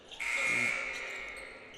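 A basketball arena buzzer blares once, a loud sustained electronic tone lasting over a second before fading, with crowd noise underneath.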